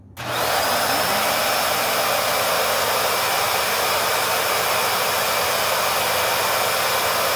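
A Shark ZU560 Lift-Away vacuum cleaner switches on and runs on its high setting with the valve open, a loud, steady motor whine and rushing airflow heard close up, alone and without talk.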